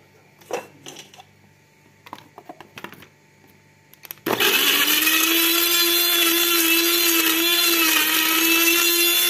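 A blender or electric grinder whirs loudly and continuously as it grinds a large head of garlic for Tunisian lablebi, starting abruptly after a few seconds of light clicks and clatter, close and alone.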